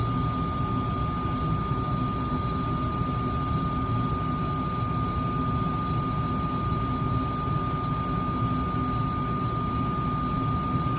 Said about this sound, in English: your blower is going to come on